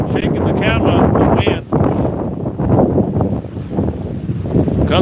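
Strong wind buffeting a camera on a small fishing boat, a heavy continuous rumble with brief dips, loud and close, while someone talks over it.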